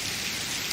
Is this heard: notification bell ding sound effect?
no